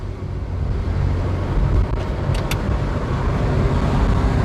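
A 2017 Honda City 1.5 S i-VTEC accelerates hard, heard from inside as a loud, steady engine and road roar that holds constant through the clip without pauses.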